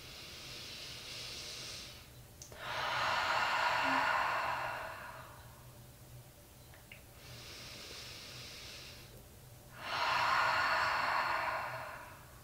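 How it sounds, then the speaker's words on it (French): Slow, deep breaths at the close of a yoga session, with long airy inhales and exhales in two full cycles. Near and soft over a quiet room hum. "prenez trois profondes respirations"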